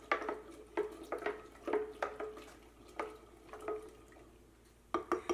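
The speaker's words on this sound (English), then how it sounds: "just gently stir" Holiday punch with cranberries and apple being gently stirred, giving soft repeated clinks and light liquid splashes at an uneven, unhurried rhythm, faint and close.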